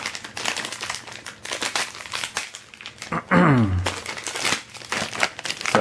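Plastic toy packaging is cut open with a knife, giving close crinkling and tearing rustles with irregular bursts and a louder crackle partway through, and no talking.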